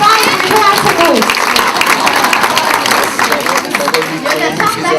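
Audience applause at an annual anniversary brunch, a dense patter of many hands clapping steadily throughout, with crowd murmur and voices mixed in beneath.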